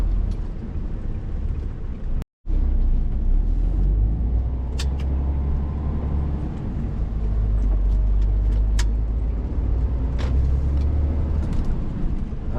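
Steady low road rumble and engine drone from inside a car cruising on the A641 out of Bradford, continuous and fairly loud, with a brief dropout and a few faint clicks.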